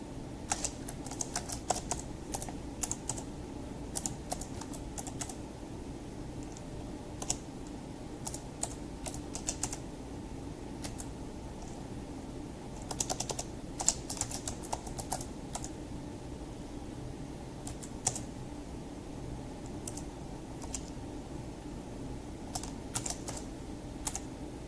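Rapid, irregular typing on a computer keyboard in a home streaming setup, steady clicking bursts close to the microphone over a low background hum, no talking.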